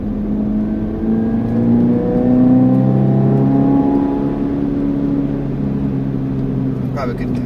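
Toyota GR86 engine on a race track, its pitch climbing and falling through a downshift with a steady buzzing drone, close and continuous under brief talk.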